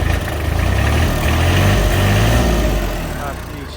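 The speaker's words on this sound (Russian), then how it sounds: "погазуем." A Kubota GL-32 Japanese mini tractor, a 32-horsepower machine fitted with a rotary tiller, runs its engine with a steady low rumble that swells slightly as the throttle is raised, close and continuous throughout.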